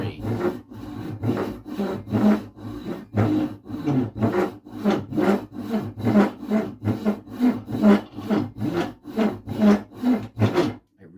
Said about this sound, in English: Keep the saw going straight.